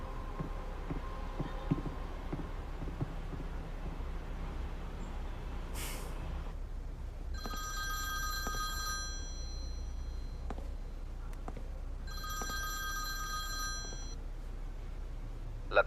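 A telephone rings in two bursts of bright, trilling bell tones, each about two seconds long, over a steady low background hum with no talking.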